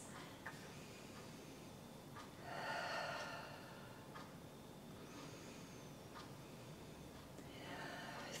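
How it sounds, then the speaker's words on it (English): Slow, deep breaths during a guided stress-relief meditation, with a few soft, airy inhales and exhales rising gently over a quiet background and no talking. "Three beautiful deep breaths."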